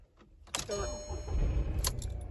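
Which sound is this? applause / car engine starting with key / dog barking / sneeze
car engine starting with key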